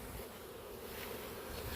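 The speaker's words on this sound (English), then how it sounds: "see if we can get a few of these loose bees" Loose honeybees from a swarm, a dense continuous buzzing drone close by, steady throughout with no talk.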